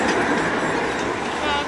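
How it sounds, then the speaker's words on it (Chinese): A tram passing close by in Kraków, Poland, near the old town, heard as a loud, steady rolling rumble with metallic rail whine for the whole short moment. "很可爱的电车。"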